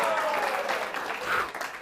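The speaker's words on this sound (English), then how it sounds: "Let's give him a round of applause." An audience applauds a yo-yo performer's trick, a dense, steady burst of clapping heard close and filling the moment, fading slightly toward the end.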